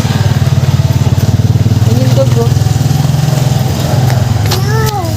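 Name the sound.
motorcycle passing on the road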